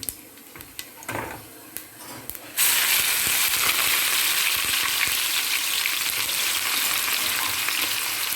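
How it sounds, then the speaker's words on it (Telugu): Onion pieces fry in hot peanut oil with cumin for a tamarind fish curry, starting with a few soft clicks and scrapes before a loud, steady sizzle bursts in and fills the rest close up, with no talking. "చేపల పులుసుకండి పల్లి నూనె అయితేనే బాగుంటుంది కొంచెం ఎక్కువే పడుతుంది కొంచెం వేడి చేసుకున్నాను కొంచెం జీలకర్ర వేసుకోండి ఉల్లిపాయ ముక్కలు వేయించుకున్నాం"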